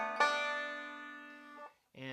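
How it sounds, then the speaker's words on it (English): A banjo plays a hybrid roll, a quick run of bright plucked notes that ring on and fade, followed after a short gap by a second burst of picking, close and alone. "that's just kind of a hybrid roll that creates a smooth transition"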